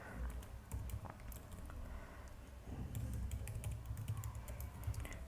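Someone types a password on a computer keyboard, with quiet, quick key clicks in irregular bursts, close but soft.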